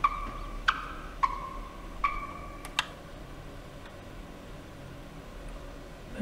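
A wild turkey gobbles in the hunting game The Hunter: Call of the Wild, giving a series of sharp, clear calls spaced about half a second to a second apart, then falling quiet.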